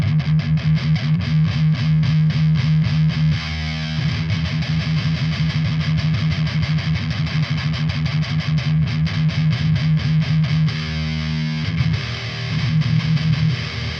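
An electric guitar runs through a BOSS Mega Distortion pedal, playing heavily distorted chugging riffs and sustained chords with brief pauses between phrases, loud and dense throughout.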